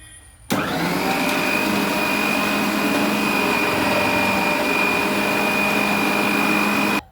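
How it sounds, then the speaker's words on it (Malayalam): A mixer grinder jar chops halved onions with a loud, steady whirring motor that starts abruptly, holds for several seconds, then cuts off. "ഉള്ളി കട്ട് ചെയ്യുന്നത് ഈ മിക്സിയുടെ ജാറിൽ വെച്ചാണ് കേട്ടോ"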